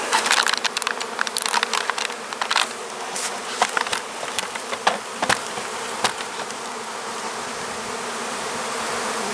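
Honeybees crowd a hive landing board carrying in pollen, making a dense, close buzzing drone with many individual bees zipping past. The buzzing is loud and continuous, with no talk.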